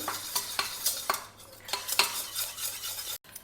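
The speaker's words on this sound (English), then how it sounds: "First I'll mash the dal well till it is nice and creamy." Boiled dal mashed in a pot until creamy, with repeated rhythmic scraping and tapping of a utensil against the pan, close and fairly loud, with no voices.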